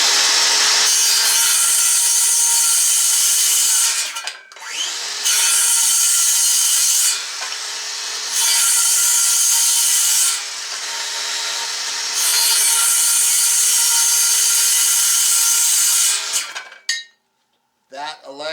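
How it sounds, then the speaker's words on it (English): A DeWalt DCS391B 6 1/2-inch cordless circular saw makes several loud cross cuts through wood, each a sustained high whine with brief pauses between cuts, ending with the blade spinning down. "let me go ahead and show you a couple more cross cuts"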